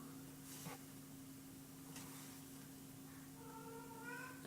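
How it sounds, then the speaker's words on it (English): A faint cat meow rises over a steady electrical hum, with a couple of soft noises earlier in the quiet background. "That's my cat."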